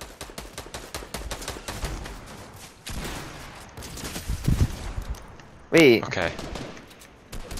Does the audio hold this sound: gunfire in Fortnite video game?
yes